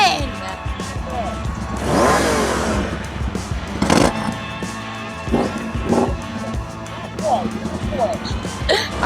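A Triumph motorcycle at a Harley dealership gives a couple of sharp throttle blips that rise and fall, standing out between stretches of close conversation.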